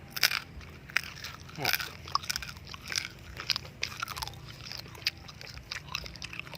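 Someone bites and chews a large fried scorpion up close, with loud, dry crunches and crackles that continue steadily throughout, and brief talk in places.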